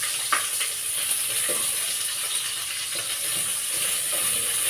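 Sliced onion sizzles steadily in hot canola oil, a close, even crackle with occasional stirring clicks.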